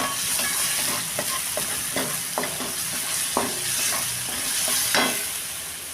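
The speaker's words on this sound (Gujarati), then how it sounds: "અને આ ડુંગળી સંતળાઈ રહી છે." Onions sauté in a pan for a Rajasthani gatta sabzi, a loud continuous sizzle close up, broken by scattered scraping stirs of a spoon against the pan and no voices.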